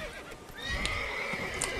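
In The Witcher 3 video game a horse neighs loudly while its hooves clop, a whinny over rhythmic hoofbeats, close and clear with no talk.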